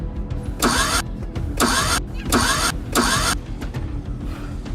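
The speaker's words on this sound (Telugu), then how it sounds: "రే మచ్చా, ఆటో ఎందుకు స్టార్ట్ అవడం లేదురా?" An auto rickshaw engine cranking repeatedly without catching, four loud rhythmic starter bursts close by, each cutting off before the motor fires, with its silencer blocked by cloth.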